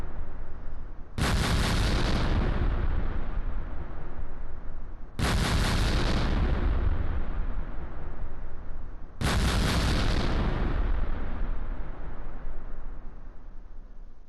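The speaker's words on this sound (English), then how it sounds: "artillery interdiction complete, results unknown" An artillery interdiction strike in the WWII strategy game Close Combat Gateway to Caen brings three loud, evenly spaced explosions about four seconds apart, each a sharp crack that trails into a long rumbling decay.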